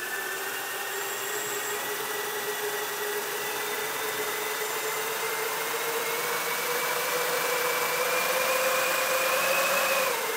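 Three battery-driven electric motors spin on a homemade powered boomerang running on about 16 volts, a continuous high whine with steady tones that slowly rise in pitch over a constant loud hum, with no voices.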